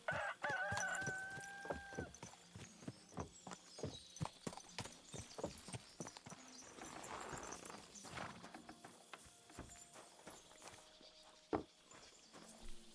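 Horse hooves clip-clop in a steady walking rhythm in the video game Kingdom Come: Deliverance 2, with a rooster crowing briefly at the start and faint ambient sounds around.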